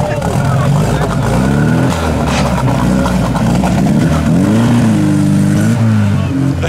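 A Soviet Moskvich 412 car driving off-road, its engine loud and close, droning and revving with rising and falling pitch throughout, while people's voices carry over it.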